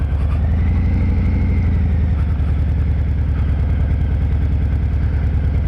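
A manual-transmission car engine hums steadily at low revs as the clutch is let out, a close, even drone with a pulsing low rumble and no talking.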